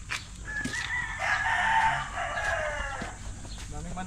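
Chickens at a Filipino farm crow and cluck nearby, a rooster's drawn-out crow rising loudly in the middle over steady clucking and background chatter.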